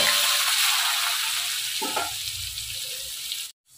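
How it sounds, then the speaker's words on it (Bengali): Potato pieces fry in hot oil in a home kitchen, giving a steady bright hiss of sizzling with a few faint clinks before it suddenly cuts to silence at the end. "আলুটা একটু ভেজে নেব।"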